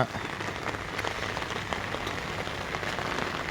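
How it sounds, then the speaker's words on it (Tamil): Steady rain pours down and runs off, collected for drinking water, giving a dense, continuous hiss of drops spattering on a surface, close and unbroken for the whole stretch with no voices. "மழை பெஞ்சு எப்படி கீழே வேஸ்ட்டாக போகுது பாருங்கள்"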